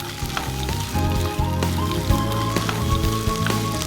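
Fish balls and fingerroot frying in oil in a pan, a dense, close, steady sizzle crackling throughout with brief stirring scrapes.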